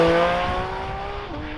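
A Porsche 718 Cayman GT4 RS flat-six engine sings at high revs, its tone holding and then dropping as the revs fall, loud and close.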